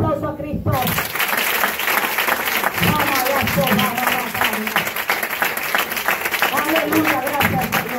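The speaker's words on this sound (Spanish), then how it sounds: "Dese el aplauso a Cristo" A church congregation bursts into sustained applause, thick continuous clapping that carries on throughout, with voices faintly mixed underneath.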